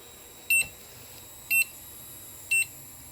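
A battery charger charging batteries gives three short, high electronic beeps spaced about a second apart, clear and close over a quiet room hiss.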